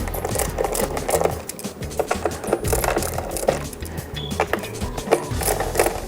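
A Burton Bullet ratchet tool lightly turning four screws into a snowboard binding, giving close, repeated clicking and rubbing with a steady rhythm and no talking.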